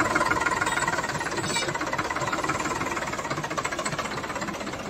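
An Eicher 247 tractor engine runs steadily in a wet field, a loud close diesel chug with a fast even knocking pulse and no voices over it.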